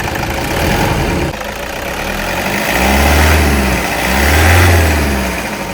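A Toyota Innova engine idles close by, then is revved twice in swelling, rumbling bursts that rise and fall back to idle.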